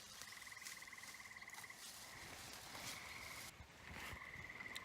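Frogs croak at night in a steady, rhythmic chorus of repeated calls, fairly close and continuous, with an ambient outdoor hiss underneath and no talking.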